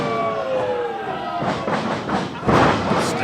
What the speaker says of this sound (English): Standing drop kick on target.